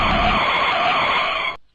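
Taxi skidding to a stop as a sound effect: a loud, close tire screech held for about a second and a half before cutting off abruptly into silence.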